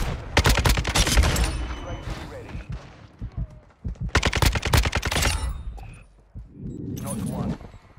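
Rapid bursts of automatic gunfire in a first-person shooter video game, loud and close, in three separated volleys with a speaking voice between shots.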